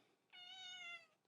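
A house cat named Kitty gives a single clear, close meow lasting under a second in a quiet room, with no other voices.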